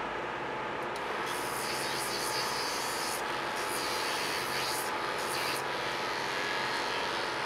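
A Dremel rotary tool stripping enamel coating off wires, a continuous loud high whine with a steady grinding hiss, its pitch shifting briefly as the bit bears on the wire, no talk.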